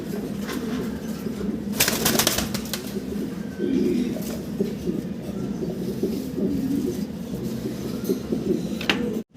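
A pair of white giant homer pigeons coo softly in a pigeon house, with a steady low murmur of birds, occasional wing flaps and light rustling throughout.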